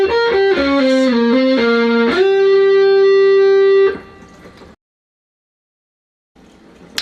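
An overdriven electric guitar plays a short riff at a relaxed pace, ending on a held note that cuts off, followed by silence and faint noise.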